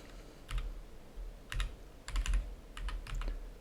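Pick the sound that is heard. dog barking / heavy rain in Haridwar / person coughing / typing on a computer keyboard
typing on a computer keyboard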